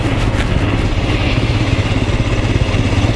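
A Royal Enfield Scram 411 motorcycle's single-cylinder engine idles steadily nearby with a low, even thrum and light mechanical clatter, heard alone without voices.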